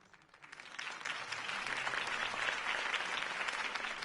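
In the game Batman: The Telltale Series, a crowd's applause after a campaign speech swells up and holds steady, a dense wash of clapping that sounds slightly distant.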